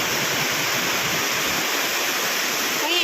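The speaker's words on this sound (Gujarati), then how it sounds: "આમ જો પાછળ આમ ફૂલ વરસાદ ચાલુ છે." Heavy unseasonal summer rain pours down in a steady, dense hiss, loud and continuous throughout, with a brief faint sound near the end.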